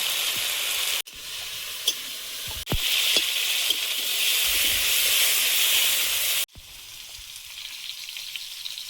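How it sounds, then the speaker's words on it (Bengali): Potatoes frying in hot oil with salt and turmeric, a loud steady sizzle and hiss close by, broken by sudden drops and surges as the pan is stirred or moved. "আলুটা আগে একটু লবণ হলুদ দিয়ে ভেজে নেব।"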